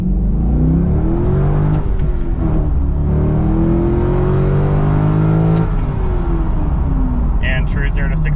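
A 2001–2004 Corvette Z06 launches from 0 to 60 with wheel spin, its engine note climbing loud and steady through the gears in a continuous roar, with a brief high chirp near the end.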